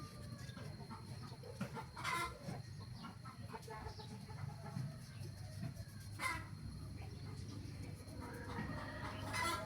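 Chickens cluck and squawk intermittently against a low background murmur, with a couple of sharper calls standing out.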